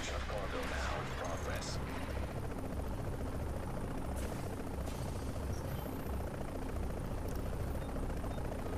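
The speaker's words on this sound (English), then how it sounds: "hold tight until the helicopter arrives" An extraction helicopter approaching in the video game The Division, a steady loud rotor roar filling the scene throughout, with faint distant pops of gunfire mixed in and a voice talking over it.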